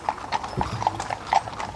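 Hooves of a team of horses clip-clop steadily at the Iowa State Fair horse caravan while pulling a wagon on rubber tires, a close, uneven clatter of many hoof strikes with no talk over it.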